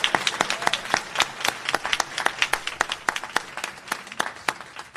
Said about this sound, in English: so we need to give them all a big round of applause.